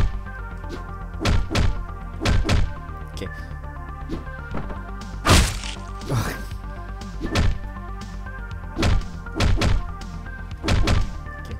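Repeated heavy melee punches land in Hotline Miami 2, sharp thwacks and thuds coming in irregular clusters over a steady synth music bed, with occasional crashing impacts.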